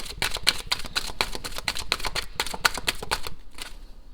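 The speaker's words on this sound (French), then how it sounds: "Je vais juste tirer encore une carte." Playing cards shuffled for a love tarot reading, a brisk riffle of rapid papery flicks for about three seconds, close and fairly loud, ending in a brief soft snap as a card is drawn.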